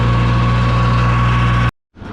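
A Minneapolis Moline 950 tractor engine idles low and steady, a loud close rumble with a strong even hum that cuts out abruptly near the end before resuming.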